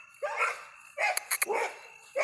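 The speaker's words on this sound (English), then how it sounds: "Please excuse the dogs barking." Dogs barking in repeated close, loud bursts, three main barks with sharp high yips mixed in between, heard on their own without talk.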